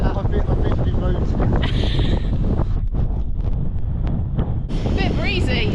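Wind buffets a microphone during a road bike ride, a loud, continuous rumbling roar with gusty surges throughout, a voice faintly under it.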